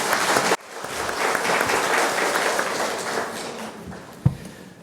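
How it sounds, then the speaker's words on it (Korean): An audience at a Franciscan spirituality academic lecture gives continuous, dense applause to welcome the second lecturer, loud and close, with a short break near the start and one sharp tap near the end. "박수로 맞이해 주세요."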